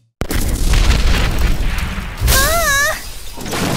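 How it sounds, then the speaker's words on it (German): A cake blows up in an oven during a kitchen cooking challenge, giving a sudden loud boom that rolls into a sustained blast, with a second surge and a brief whistling tone near the end. "Hier ist mein Kuchen. Er ist ein bisschen explodiert."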